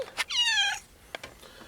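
A pet cat gives one clear, drawn-out meow up close, followed by a few faint soft rustles in a quiet indoor room.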